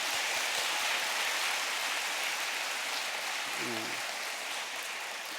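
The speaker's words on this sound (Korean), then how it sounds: "격려의 박수 한번 부탁드립니다" A church congregation applauds its prayer-house choir at an evening revival service, a steady wash of clapping filling the hall throughout, with a brief voice heard faintly near the end.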